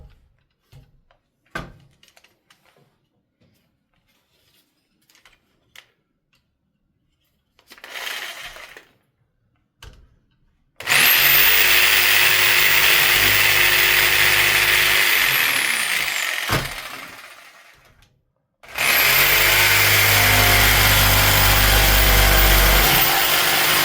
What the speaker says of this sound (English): I gotta get up there and get the jigsaw